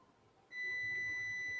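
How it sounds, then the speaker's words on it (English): A single small electronic beep from a preset button on an embroidery or sewing machine starts abruptly and holds as a steady high tone against a quiet background. "It was a little beep. It went beep."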